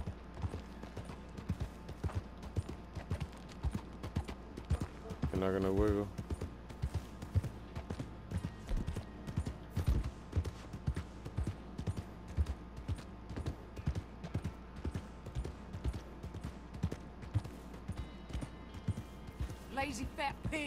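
Steady horse hooves clip-clop at a walking pace on a Red Dead Redemption 2 western trail, close and moderately loud, with a brief whinny and someone talking over the rhythm.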